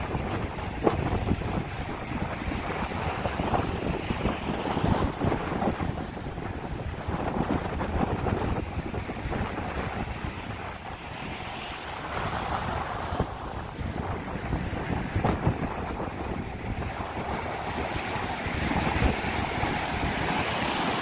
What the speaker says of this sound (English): tide's coming back in. That's what's going on here.